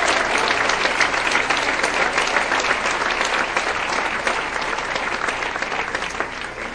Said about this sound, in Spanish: Aplauda fuerte si puede